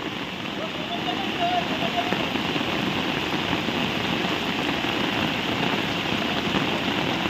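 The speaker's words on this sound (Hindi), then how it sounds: "भाई वर्षा है जोरजार वर्षा है" Heavy rain pours down in a dense, continuous hiss and patter, loud and close, with no pauses.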